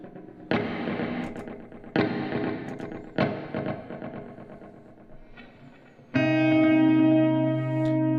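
Electric guitar notes ring out through a Halo reverb pedal, three struck chords fading into a wash, then a sustained, swelling shimmering chord that holds to the end.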